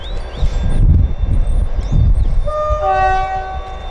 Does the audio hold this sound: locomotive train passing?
yes